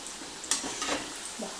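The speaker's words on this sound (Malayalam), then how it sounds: "നമ്മുടെ സോയ നന്നായിട്ട് ഫ്രൈ ആയിട്ടുണ്ട്. നമുക്കിതൊന്ന് കോരിയെടുക്കാം." Fried soya chunks hiss and crackle in hot oil as they are lifted out with a slotted spoon, a short close sizzle with a brief sharp scrape partway through.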